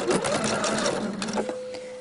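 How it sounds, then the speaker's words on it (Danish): A sewing machine runs steadily, sewing an ordinary straight stitch along bias tape on a homemade apron, a close, continuous mechanical whir with a rapid needle rhythm and no talk. "Og så syr jeg i den rille her med helt almindelig ligeudsyning."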